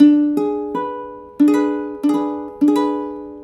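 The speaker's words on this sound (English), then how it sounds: "diminished chord in second inversion sounds like this" A diminished chord in second inversion, played as rolled notes several times over in separate strikes, each attack decaying slowly, clear and close with no talk.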